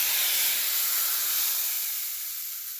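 Hot mustard-seed tempering is poured onto grated coconut for a chutney, giving a loud, close sizzling hiss that slowly fades over a few seconds, with no talk.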